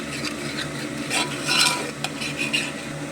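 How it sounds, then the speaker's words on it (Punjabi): A spoon scrapes and stirs spice masala frying in hot oil for chatpate chickpeas. Repeated close stirring strokes clink against the pan over a continuous soft sizzle. "ਅਸੀਂ ਇਹਨੂੰ ਚੰਗੀ ਤਰ੍ਹਾਂ ਮਿਕਸ ਕਰਾਂਗੇ ਪਹਿਲੇ ਮਸਾਲਿਆਂ ਨੂੰ ਪੱਕਣ ਦੇਵਾਂਗੇ"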